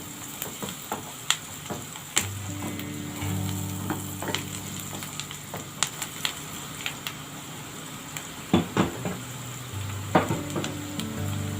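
Onions softening in a hot pan give a steady, close sizzle, with occasional utensil scrapes and clicks over a low background hum, and no voices.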